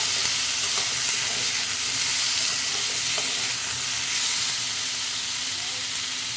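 Mixed vegetables frying in a pan with turmeric and red chilli powder, a loud continuous hissing sizzle, close by, with only faint stirring clicks beneath it and no one speaking.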